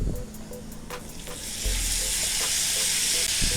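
Whole cluster beans (guvar) drop into a hot pan, with clattering and stirring at first, then a broad sizzle that swells and holds steady.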